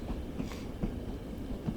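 Long Island Railroad train pulling out of Jamaica station in the Train Sim World 5 simulator, with a low steady rumble and soft periodic thumps of wheels rolling over rail joints.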